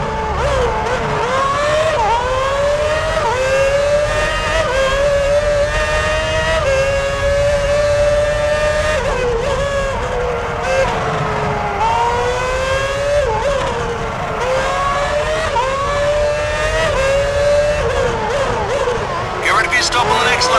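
High-pitched F1 race car engine from the PS3 video game F1 2006, screaming continuously close-up as the car speeds out of the pits, rising and falling through gear shifts for the whole stretch, with commentary talking over it.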